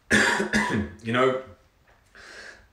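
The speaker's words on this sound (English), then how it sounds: "I'm just coughing because it went down the wrong hole" A person coughs after drinking a strong reishi mushroom brew, with two sharp close coughs followed by a rougher throat-clearing hack and a fainter trailing cough.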